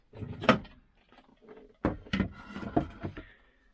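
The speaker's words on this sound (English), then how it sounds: "Let me open up the cabinets." Wooden kitchen cabinet doors are opened and pulled off below the sink before a drain pipe repair: several sharp knocks and clatters with hollow wooden thumps, spaced irregularly and close by, with no voices.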